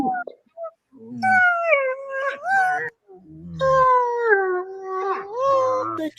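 Newborn puppies whimper and squeal in a clear, close series of high, wavering cries with short gaps between them, loud and without talk over them.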